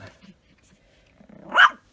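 A puppy gives a short, sharp bark near the end after faint low grumbling growls, close and fairly loud in an otherwise quiet room.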